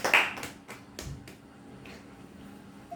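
Several separate hand claps ring out at uneven intervals, fairly close and crisp, with faint background room tone between them and no talking.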